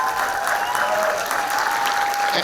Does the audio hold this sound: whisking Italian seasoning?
no